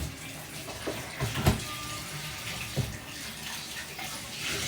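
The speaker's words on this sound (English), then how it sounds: "Wash the yellow yam." Yellow yam gets washed under a running kitchen tap, a steady soft rush of water with a few splashes and knocks, close and moderately quiet, no talking.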